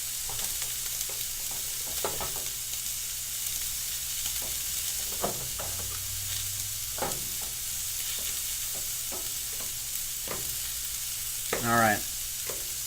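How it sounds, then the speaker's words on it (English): Steak sizzling in a hot pan for a cheesesteak, a steady close hiss and crackle with occasional scraping stirs, continuing throughout with no talk. "Steak's cooking, looking good."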